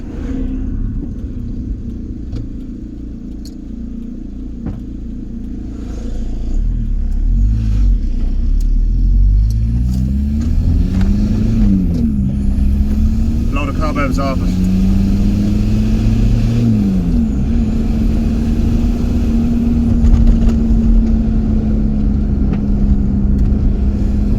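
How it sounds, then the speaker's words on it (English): A VW T25 van with a swapped-in TDI diesel engine drives along. The engine rumbles low and revs up through the gears, then settles into a steady, near-idling drone at road speed, with no talk. "there's us doing 60k and the engine's practically idling"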